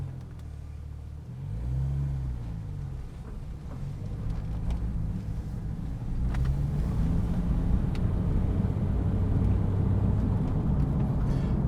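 A Porsche 911 Turbo 997.1 with its Mezger engine breathing through a Klein Innovation exhaust, a deep rumbling idle that swells with revs and settles into a louder, sustained throaty drone, close and alone.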